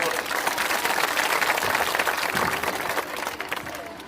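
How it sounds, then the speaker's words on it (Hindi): A crowd at a political rally in Bihar, India, bursts into sustained loud applause, dense clapping with some cheering that holds steady for several seconds before easing slightly at the end. "अब एक बार सब लोग जोरदार ताली बजाइए आदरणीय प्रसाद को।"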